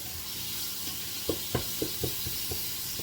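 Bay leaves and vegetables sautéing in olive oil for a lentil stew, a steady soft sizzle under a run of quick, evenly spaced stirring scrapes near the end.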